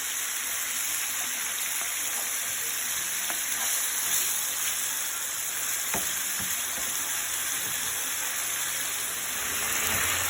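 Chicken stir-fries for a broccoli dish in a pan on high heat, a steady, dense sizzle with occasional clicks and scrapes of stirring, heard close and alone without any talking.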